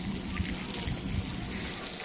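Faint, continuous splashing and trickling at an outdoor splash pad, a soft, steady wash of water with no distinct individual splashes.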